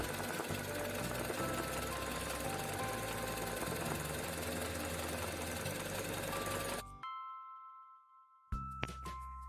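A sewing machine works flat embroidery with a satin-style stitch, a loud, busy, rapid stitching rattle for about seven seconds before it stops abruptly, followed by silence and a few faint clicks and a brief tonal hum.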